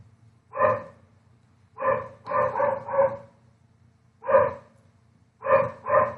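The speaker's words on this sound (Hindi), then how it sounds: "हमारे पड़ोसी डॉगी को भी अभी भौंकना है।" A neighbour's dog barks in short sharp bursts, about eight barks in clusters of one to three with pauses between, moderately loud and alone against a faint background hum.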